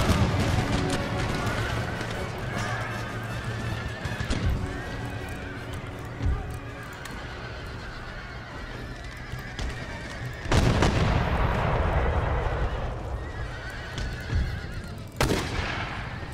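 Cavalry horses charge in Empire: Total War, with repeated loud whinnies and neighs over steady hoof clatter and battle din, plus a sudden burst of noise near the end.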